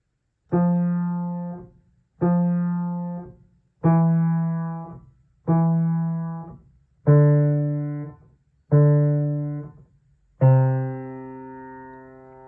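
Seven rolled piano chords in the low register, evenly spaced, each swelling and decaying before the next; clear and close.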